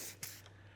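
A Pressol spray bottle mists water-based tire dressing in one short, sharp hiss, followed by a fainter second puff, close and quiet with no talk.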